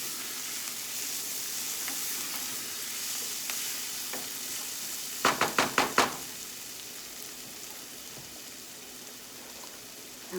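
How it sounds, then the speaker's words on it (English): Garlic cloves sautéing in a pan give a steady close sizzle, broken midway by a quick run of five sharp knocks or scrapes of a utensil against the pan, no talking. "And let that saute."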